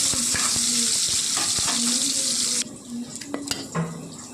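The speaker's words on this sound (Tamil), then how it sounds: "வெங்காயம் நல்லா வதங்கினதுக்கப்புறம் 3 சின்ன சைஸ் தக்காளி பழம் சேர்த்துக்கோங்க." Onions and three small tomatoes sautéing in a hot pan for a chicken kuzhambu give a loud, steady sizzle that cuts off abruptly, followed by a few scattered clinks and scrapes of stirring.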